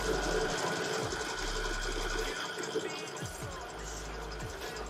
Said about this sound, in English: just gonna go ahead and do straight stitch all the way down. Going to turn the speed up on this one